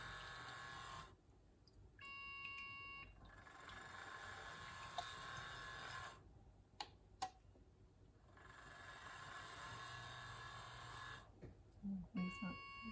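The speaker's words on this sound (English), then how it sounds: "it's probably going to beep at me a little bit more" A candle-making machine beeps twice in short clustered tones, separated by stretches of background noise and faint clatter, fairly close.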